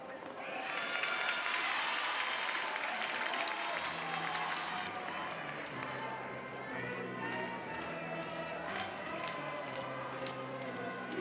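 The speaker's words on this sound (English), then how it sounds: "You can just hear the oohs and ahs of every single Sooner fan, softball fan in the crowd" A packed college softball crowd at Love's Field reacting with oohs and applause during an Arkansas vs Oklahoma game, a broad swell of cheering and clapping that settles into sustained crowd murmur with a commentator talking over it.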